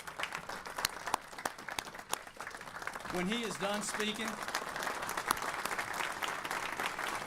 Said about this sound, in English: If you give me a round of applause.